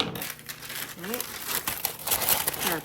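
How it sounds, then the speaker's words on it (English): Parchment paper being handled and crinkled on a kitchen counter while making bread, a run of close, dry rustling bursts. "Put our parchment paper down."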